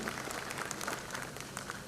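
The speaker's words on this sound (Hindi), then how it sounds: "जोरदार ताली इनके लिए भी आप बजा सकते हो" Applause from the audience at a public keynote event in Bhopal, a steady broadband clapping that continues evenly across the whole moment, moderately loud and without talk.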